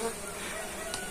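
Swarm of Trigona stingless bees from a strong, busy colony, a steady close buzzing hum filling the short moment without a break.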